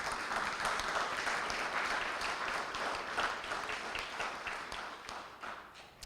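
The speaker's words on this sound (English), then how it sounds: "one is right now as we give a round of applause for all our candidates" An audience at a candidates forum applauding all the candidates, a dense, steady patter of many hands clapping at moderate volume that tapers off slightly toward the end.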